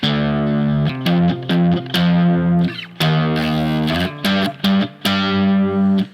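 Distorted electric guitar plays a melody backwards, choppy, with swelling, reversed-sounding notes that fade in and cut off abruptly, loud and close.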